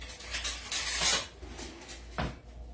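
Metal cutlery clinking and rattling as a clean spoon is pulled from a kitchen utensil drawer, a few soft clatters in the first second and one sharp clink near the end, with no talk.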